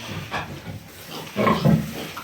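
A breeding sow grunts close by, a few short low snorts followed by a louder, rougher grunting burst.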